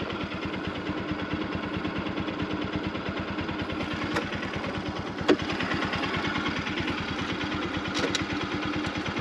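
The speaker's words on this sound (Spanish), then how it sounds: "Dejémosle la moto aquí prendida para ver si es que no hay nada malo para salir soplado" A motorcycle engine idles on a mountain trail, a steady rapid low-pitched putter with even pulses throughout, close and constant, with a couple of faint clicks over it.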